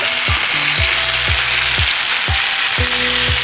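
Chicken coated in spiced masala fries loudly in a pan, a steady close hiss of sizzling oil with a recurring low rhythmic thump from stirring, and no talking.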